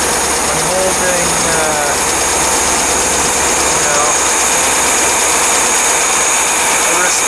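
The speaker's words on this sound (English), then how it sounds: "decent idle going on as far as the speed goes, and it's good and warm" A warmed-up car engine idles steadily and loudly throughout, a continuous even rumble with a bright mechanical whine on top, while someone talks over it.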